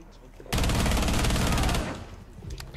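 Sustained automatic gunfire in the video game Rainbow Six Siege, a dense, loud continuous burst lasting about a second and a half, then fading to quieter game sounds.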